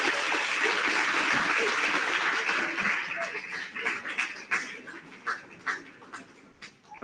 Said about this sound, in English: please also give a clap and shout